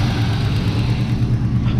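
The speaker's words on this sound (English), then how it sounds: "ignition system, start it" A race car being prepped in a garage runs with a loud, steady low engine rumble, idling with slight revving throughout, close by and with no talk.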